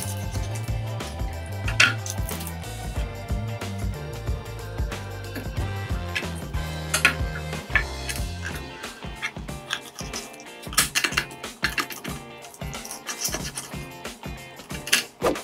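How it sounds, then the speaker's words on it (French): A roasted chicken carcass roughly cut apart for homemade broth, blades and hands snapping through bone and cartilage in irregular crunching, scraping bursts, close and fairly loud, with no talking. "on va découper la carcasse"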